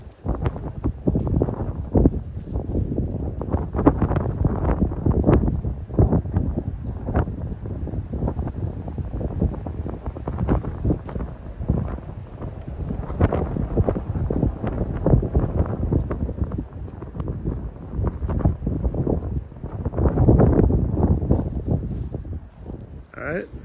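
Gusty outdoor wind buffets the microphone continuously at close range during a portable radio setup with a fishing pole antenna mast, rising and falling in strength, with someone talking intermittently underneath.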